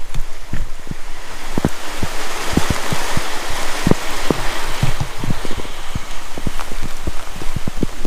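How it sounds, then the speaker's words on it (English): Rain falls outdoors in a steady hiss, with scattered louder drops tapping nearby surfaces, close and continuous. "It's starting to rain."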